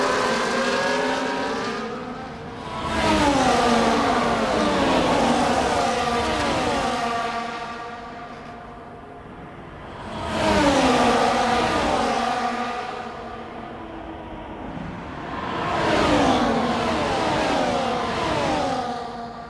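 Race car engines in F1 24 on the Saudi Arabia Grand Prix circuit, with simulation damage, rising and falling in three long revving surges of loud, harmonic-rich howl, each climbing through the gears before easing off.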